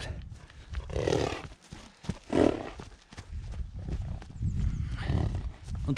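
A Percheron stallion, a heavy draft horse, gives low snorting and whinny-like vocal bursts near the microphone, with stamping and farmyard noise running underneath throughout.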